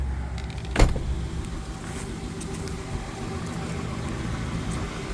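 Rear power windows of a 1955 Chevrolet Bel Air two-door hardtop whirring steadily with a low electric motor hum, opening with a sharp clunk from inside the car.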